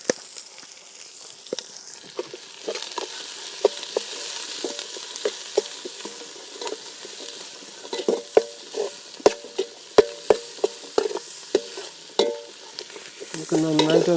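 Onions frying in a pan with salt for a Kerala chicken curry, a steady close sizzle running throughout, with spatula stirs and scrapes that grow more frequent toward the end.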